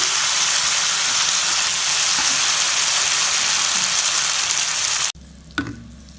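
Chilli garlic baby potatoes frying in a pan with coriander: a loud, dense, close sizzle that stops abruptly near the end, followed by a single light clink.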